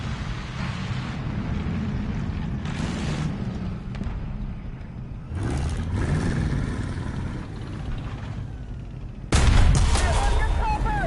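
Gunfire and cannon bursts in War Thunder as a tank comes under machine-gun fire, with a continuous low engine rumble and repeated shot bursts, the loudest near the end.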